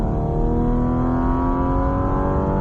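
A Porsche 718 GT4RS accelerates hard on a race circuit, its engine a loud, continuous near roar rising smoothly in pitch as the revs climb, with no talk.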